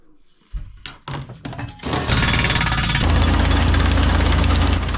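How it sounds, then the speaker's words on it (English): A well drilling rig with a drill rod in metal casing and an air compressor blowing loose dirt out the top: a few heavy thunks and knocks start it, then a loud, steady machine roar and rumble runs without a break. "they drill down and an air compressor blows the loose dirt out the top"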